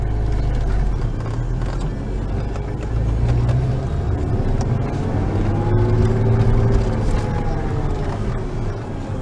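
A 2004 Porsche Boxster with manual transmission hums steadily while driving, with low rumbling road noise and a faint rising whine of revs throughout.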